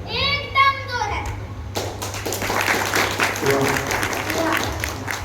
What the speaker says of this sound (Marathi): त्याला जोरदार टाळ्या हवं